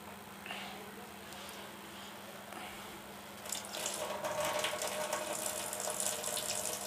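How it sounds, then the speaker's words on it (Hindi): Hot water runs from the tap of a gas geyser, a soft hiss that grows louder and brighter midway as the flow is turned up, with faint mechanical clicks earlier. "इसमें दोस्तों गर्म पानी आ रहा है, मैं इसकी थोड़ा आपको तेज़ करके दिखाता हूँ।"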